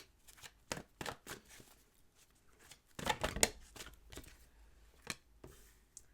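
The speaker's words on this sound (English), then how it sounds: "I'm just going to start pulling some oracle cards" Oracle cards are shuffled and pulled from the deck: a run of soft papery riffles and flicks, then a louder, denser flurry of shuffling midway, followed by a few scattered card snaps.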